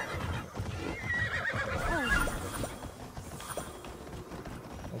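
A horse neighs and whinnies with hoof clip-clop in the video game Immortals Fenyx Rising, loud and close over a steady ambient game background for about five seconds.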